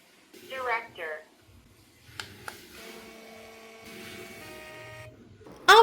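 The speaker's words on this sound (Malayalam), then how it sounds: "ആ വേർഡ്സ് ഒക്കെ നമുക്ക് ഇതുപോലെ പ്രിന്റ് എടുക്കാൻ പറ്റും" A voice speaks briefly, then a Seznik Echo mini printer prints stored words, its small motor giving a steady, faint mechanical whir for a couple of seconds before a sudden louder sound ends it.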